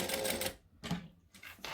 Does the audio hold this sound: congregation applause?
no